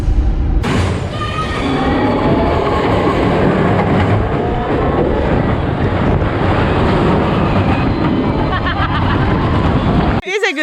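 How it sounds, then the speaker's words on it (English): Roller coaster ride at Hopi Hari theme park, with loud continuous rushing wind roar and rumbling track noise for about ten seconds and voices mixed in, ending abruptly. "It's a good coaster. I like it."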